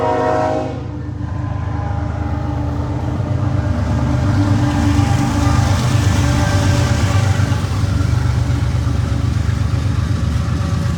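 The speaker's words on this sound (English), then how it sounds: "I'm gonna pause and let this train go by." A loud train rolls past close by along tracks next to Titlow Beach Park, its heavy rumble and wheel clatter building and holding steady, with a brief horn blast at the start.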